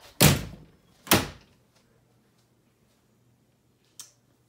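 Two small doors shut in quick succession with sharp, close knocks about a second apart, each ringing briefly, then a light click a few seconds later in near silence.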